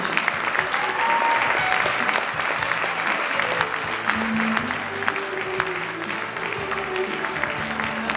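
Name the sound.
audience applause for young composers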